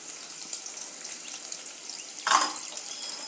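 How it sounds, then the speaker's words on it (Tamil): Ginger and cumin dropped into hot oil and ghee sizzle up in a brief burst of frying, rising out of a soft steady hiss. "எண்ணெயும் நெய்யும் சூடாயிடுச்சு. இப்போ இஞ்சி போட்டுக்கலாம். இஞ்சி போட்டு ஜீரகம் போட்டுக்கலாம்."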